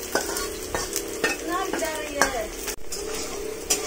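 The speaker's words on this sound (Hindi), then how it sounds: "प्याज दो उसको, प्याज धीरे से डालना चाहिए।" Onions frying in a pan and being stirred, a close crackling sizzle broken by metallic clinks and scrapes of a spoon against the pan, with no speech.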